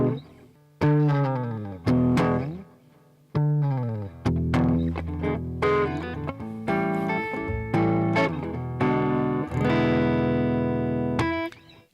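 Electric guitar slide-starts, a finger sliding evenly down the neck into each note, repeated several times with gliding pitch falls and ringing sustain, some notes strummed as chords.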